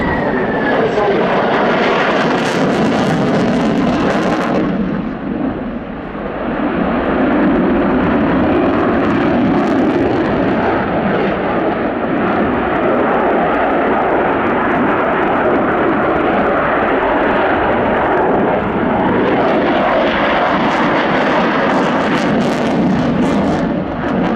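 A Sukhoi Su-27 Flanker flies a display powered by two Lyulka (Saturn) AL-31 turbofans, giving a loud, sustained jet roar that swells and dips as the fighter passes. A commentator speaks over the engines.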